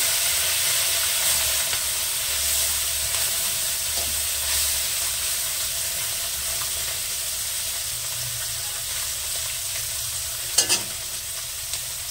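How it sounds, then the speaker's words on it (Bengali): Small puti fish fry in hot oil with a steady, even sizzle and hiss for the whole stretch, broken once by a brief clink near the end. "তেলটা গরম হয়ে গেছে, আমি গ্যাসটা একটু ছোট করে দিয়ে মাছ কটা দুবারে ভাজবো"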